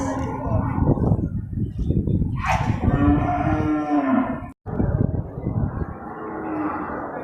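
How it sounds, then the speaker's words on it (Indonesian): A large Simmental bull at a livestock market gives a long, loud, close moo that rises and falls, amid crowd noise and voices talking in the background. "Ini sapi simental sudah besar, belum dipasang keluh, belum ditindih hidungnya."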